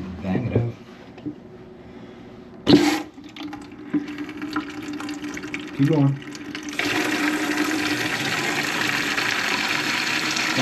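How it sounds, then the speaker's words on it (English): Water rushes through a toilet fill valve under test, starting with brief splashes and then settling into a steady, loud hiss of running water for the last few seconds, with someone speaking briefly over it. "we're gonna test this valve. So turn the water on. It's gonna splash."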